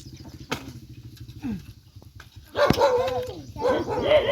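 A dog barks a few times in a rural home setting, short yips near 0.5 and 1.5 seconds followed by a livelier burst of barking and whimpering, with people talking nearby.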